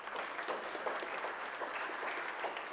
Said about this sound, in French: Des applaudissements pour le discours de rentrée du président de l'université